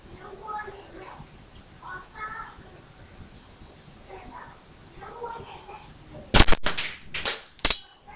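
A burst of several sharp sniper shots in a video game arrives near the end, following quiet stretches of soft speech.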